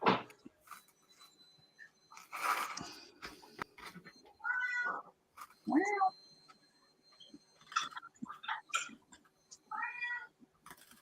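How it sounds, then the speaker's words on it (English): A cat meows repeatedly at close range indoors, several drawn-out, rising cries spaced between quieter stretches and small clicks and rustles. "I'm being heckled by a cat."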